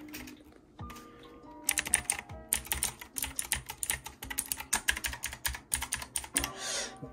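A Razer mechanical keyboard with green clicky switches is typed on, sharp clicking keystrokes in quick irregular bursts, close and crisp, with no talking over them.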